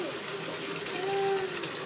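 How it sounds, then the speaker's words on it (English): Water floods up through a Lego City play set, a steady close rush and trickle of running water that continues unbroken throughout, with a faint thin whistling tone partway through. "Oh no, somehow the water is coming up here."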